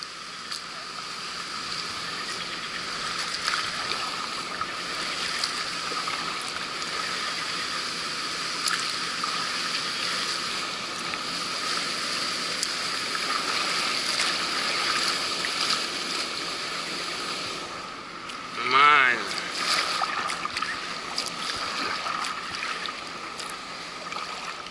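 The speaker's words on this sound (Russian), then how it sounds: "Искусственный порог." Water rushes steadily as a packraft runs an artificial river rapid, a continuous broad roar of flowing water up close, with a short higher-pitched squeak or call near the end.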